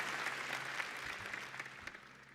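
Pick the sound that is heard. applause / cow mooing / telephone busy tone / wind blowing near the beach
applause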